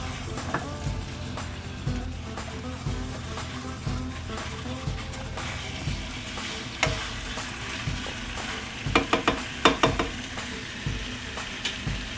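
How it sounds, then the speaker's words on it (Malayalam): Chicken sautéing in a pan with ginger and garlic, a steady close sizzle running throughout with scraping stir strokes and a quick burst of spoon clatter near the end; no talk. "ഇതൊന്ന് ചെറുതായിട്ട് വഴണ്ടോട്ടെ."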